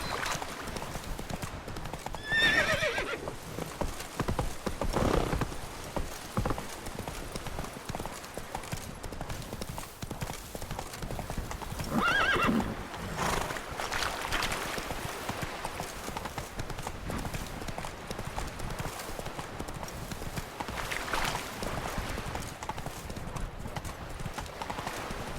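Roach the horse galloping in The Witcher 3, rapid continuous hoofbeats with a couple of neighs mixed in over a steady bed of game ambience.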